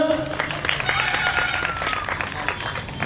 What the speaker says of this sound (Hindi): तो ऐसे बेहतरीन संविधान के लिए भाई जोरदार तालियां।